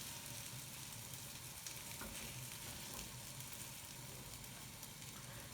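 Beaten egg for an omelette frying in a pan, giving a quiet, steady sizzle and crackle throughout with no voices.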